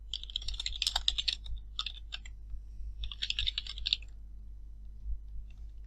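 Soft clicks of a computer keyboard come in two quick bursts of typing with a brief pause between, faint and close against a low background hum.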